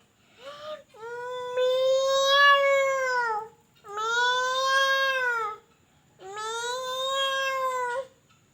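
A kindergarten child at a school Children's Day competition imitates a cat with three long, wavering meows, close and clear, separated by short pauses.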